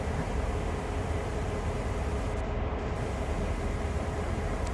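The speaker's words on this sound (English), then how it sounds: "Love those brake noises." Train brakes on a locomotive rolling down a slight grade on the NEC line near New York in Train Sim World give a steady, loud, broadband hiss and rumble, continuous throughout, with no talking.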